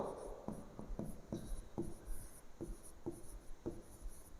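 Pen strokes scratching on paper while SI unit symbols such as kilogram per meter second are written out by hand, a quiet, steady series of short rubbing strokes about every half second with no talk.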